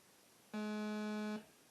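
A bright, buzzy sawtooth tone from an Arturia MiniBrute 2 synthesizer holds steady for under a second with a rich stack of overtones, starting and stopping abruptly against near silence.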